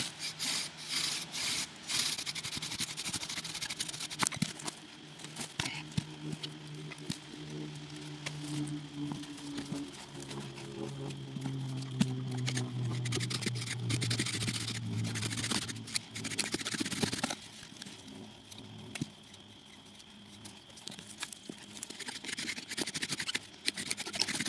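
A bow drill spindle rubs against a wooden fireboard during a primitive fire-making attempt, giving a steady scraping friction with rhythmic back-and-forth strokes, fairly loud and close, with no talking.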